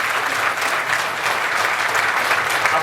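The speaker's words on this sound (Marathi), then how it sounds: "टाळ्या वाजवून आपण या मॅनेजमेंटचं सुद्धा आपण मनापासून अभिनंदन या ठिकाणी" Audience applause for the management of Manorama cooperative bank at a public gathering: dense, steady clapping from a sizable crowd, continuous and even throughout with no talk.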